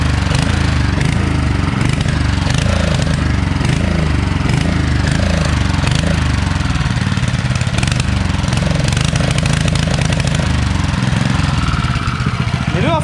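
A Honda GX160 small engine runs loud and continuous after a fuel mistake, a dense pulsing roar with rhythmic low throbs, close up and without talk.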